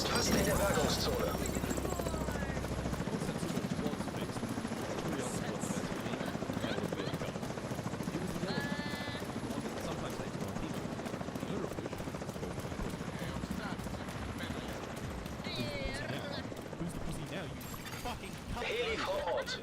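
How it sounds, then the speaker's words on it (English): A helicopter flies in to the extraction zone in The Division 2, its loud, continuous rotor wash dominating throughout, with game voice lines and scattered gunfire layered over it. "Helikopter ist fast in der Bergungszone."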